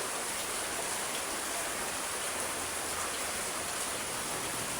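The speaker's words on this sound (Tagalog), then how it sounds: "Inabot na ako ng ulan." Steady, dense rain hissing without pause, a broad even wash of falling water close by.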